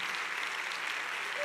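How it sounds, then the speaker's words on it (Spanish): Brief, faint applause at a lung cancer panel, a steady patter of clapping from the audience heard at some distance for a moment. "Un aplauso para ella porque impone estar aquí arriba"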